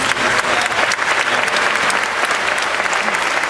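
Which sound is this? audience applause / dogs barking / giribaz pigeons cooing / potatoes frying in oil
audience applause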